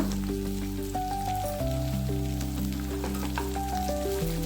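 Salted okra fries in a pan for bendekayi sasive, making a dense, steady sizzle with a little stirring, and music plays beneath it throughout.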